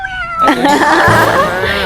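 A cat meows loudly and close by, a single drawn-out, wavering cry lasting nearly two seconds.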